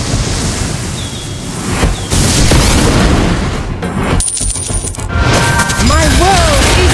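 Turret destruction explosion in the Mobile Legends mobile game: a loud booming blast with crackling debris amid dense game effects and music, followed by rising tonal swoops, with in-game announcer voice lines around it.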